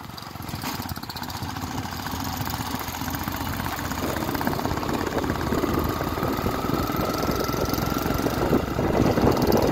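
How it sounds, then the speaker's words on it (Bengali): Three motorcycles, a Yamaha FZS, a Royal Enfield Meteor and a Honda 350, idle close by on a road trip, a continuous, even engine rumble that slowly grows louder with no talk over it. "আমরা 3টে বাইক নিয়ে বেরিয়েছি, একটা FZS, একটা রয়্যাল এনফিল্ড মেটিওর, আর একটা হুন্ডা 350।"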